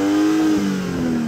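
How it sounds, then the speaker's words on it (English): A BMW M240i engine revs loudly and steadily, holding a high, sustained drone with a slight dip in pitch midway, close up and with no talk over it. "So I'm going to rev up this BMW."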